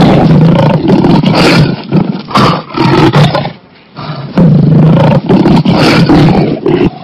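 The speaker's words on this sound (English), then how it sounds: "L for lion." A lion roars repeatedly and loudly, with long powerful bursts separated by brief pauses, close and without any talking.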